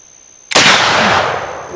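Thompson Center Hawken muzzleloader rifle fired once outdoors after a short quiet moment, a single sudden loud close blast that decays into a long rumbling tail.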